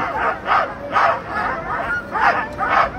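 Sled dogs at the start of a mountain race stage bark and yip in repeated loud bursts, a steady excited chorus with crowd noise behind.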